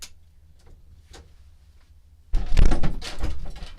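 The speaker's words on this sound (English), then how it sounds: "I'm going to close this door" A door is pushed shut indoors, a sudden loud thud and rattle after a stretch of quiet with faint ticking, the clatter lingering briefly.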